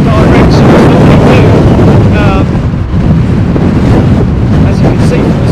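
Strong gusty wind at London Heathrow Airport batters the microphone, a loud continuous roar and buffeting that covers everything else.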